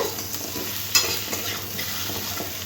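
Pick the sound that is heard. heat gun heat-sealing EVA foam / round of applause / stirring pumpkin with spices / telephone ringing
stirring pumpkin with spices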